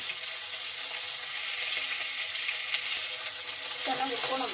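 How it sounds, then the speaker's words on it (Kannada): One inch of cinnamon and four cloves fry in oil in a pan, giving a steady, close sizzle throughout, with a short burst of talk near the end. "ಚೆನ್ನಾಗಿ ಹುರ್ಕೊಳ್ಳೋಣ ಇದನ್ನು"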